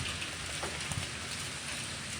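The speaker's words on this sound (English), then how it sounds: "It just started raining out of nowhere." Steady rain falling outdoors on a street, a dense continuous hiss of drops close by with a few louder splashes, no voices.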